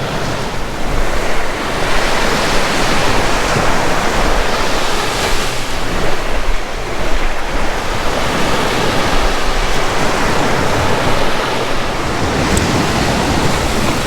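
Ocean surf breaks continuously on a beach, a loud, dense wash of waves with wind buffeting the microphone throughout, close and with no voices.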